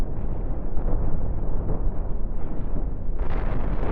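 Spaceships trade a broadside in the space battle game Cosmoteer, producing continuous heavy, rumbling explosions with dense low booms, rising into a brighter crackling blast near the end.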